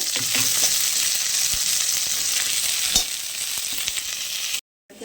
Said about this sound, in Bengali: পেঁয়াজ কুচিগুলো দিয়ে দিলাম, একটু ভাজা করে নেব।